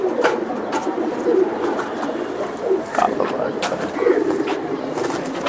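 Chila pigeons coo in repeated soft, throaty bursts at close range, with faint voices murmuring in the background.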